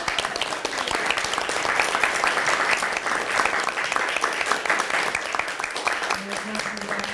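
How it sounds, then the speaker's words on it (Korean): Hearty applause fills a joint campaign declaration ceremony of the Justice, Green and Future parties, a dense, steady wash of many hands clapping that holds loud and unbroken throughout. "힘찬 박수."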